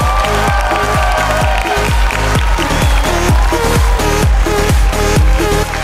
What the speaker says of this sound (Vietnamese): Xin cho một tràng pháo tay thật lớn được không ạ?